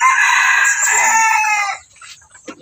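Backyard chickens kept as pets, a rooster crowing loudly and close with a long drawn-out call, followed by a few short clucks from the hens.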